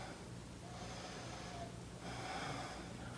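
Slow, audible breathing during a yoga chin-and-chest-down stretch in a wrist and shoulder warm-up, two long breathy inhale-exhale passes, close and fairly quiet.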